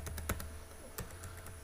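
Typing on a computer keyboard, several quiet, close key clicks in short irregular bursts over a low steady hum, with no talking.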